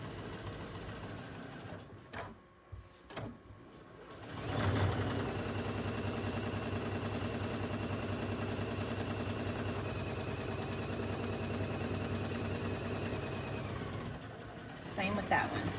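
A sewing machine stitches a seam on a scrappy heart quilt block, running steadily at close range for most of the stretch after a brief start, with light handling noises around it.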